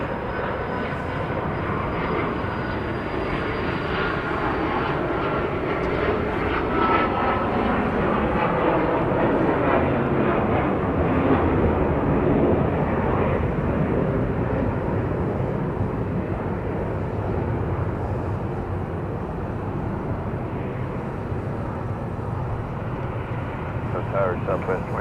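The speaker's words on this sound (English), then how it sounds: "This is a Cessna Citation CJ3 Plus going to Thermal" A Cessna Citation CJ3 Plus business jet at Dallas Love Field airport roars in a steady, loud broadband rush that swells and then slowly fades, with a faint high whine early on and radio chatter underneath.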